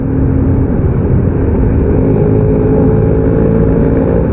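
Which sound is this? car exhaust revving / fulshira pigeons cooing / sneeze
car exhaust revving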